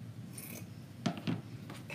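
Scissors trim ribbon while a strawberry bow is being made, giving two or three quick, faint snips close by against a quiet room background.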